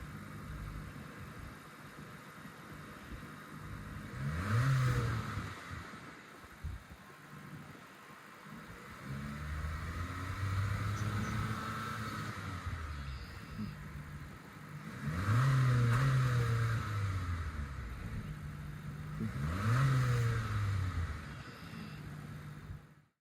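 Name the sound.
Acura ADX turbo four-cylinder engine revving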